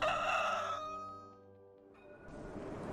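A rooster crows once in a long, loud, drawn-out call used as a chicken coop sound effect, fading into a brief lull before a noisy background rises again.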